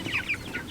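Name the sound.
baby chicks clucking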